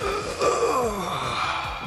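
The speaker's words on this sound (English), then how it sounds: "From scoring to snoring, the doze dab sounds like this if you're wearing a male outfit." The Doze Dab emote's snore for a male outfit in Fortnite, a loud, breathy voiced inhale sliding downward in pitch over a soft, steady rhythmic beat.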